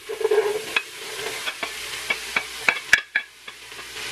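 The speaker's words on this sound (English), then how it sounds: "So that is sizzling up, you can hear." Vegan food sizzles in a pan during meal prep: a soft, continuous fry broken by sharp utensil taps and scrapes at irregular intervals, heard close with no talking.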